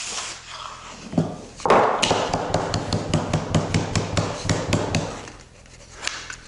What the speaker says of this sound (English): kind of pounding on the MDF with the ball of my fist to stick it to the bottom of the ash log block